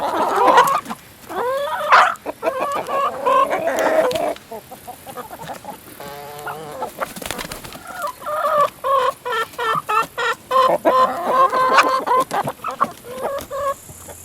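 Chickens gathered at a cheap homemade bulk feeder bin, clucking and squawking steadily and close by as they eat, with repeated bursts and short calls throughout.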